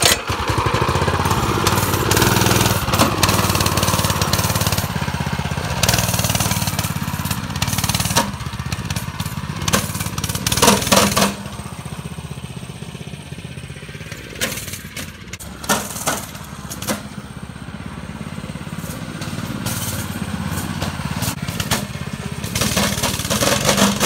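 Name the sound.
pull-started go kart engine running during ride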